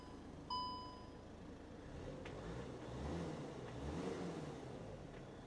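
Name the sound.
Skoda Kodiaq engine starting via starter button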